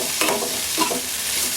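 Mashed boiled potato being stirred into a spiced masala in a pan for samosa filling, a steady sizzle with a couple of soft scraping stirs standing out near the start and middle.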